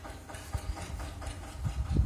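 A motorbike engine idles close by with an older woman seated on it, a low, uneven chugging pulse that grows slightly louder near the end.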